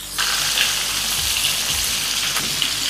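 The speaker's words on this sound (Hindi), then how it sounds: "फ्लेम को हम एकदम हाई पर रखेंगे, जिससे ना ये सारा लहसुन अदरक सब अच्छी तरह से भून जाए" Grated ginger and garlic fry with amla over high flame in a pan, making a dense, even sizzle that stays close and loud for the whole stretch.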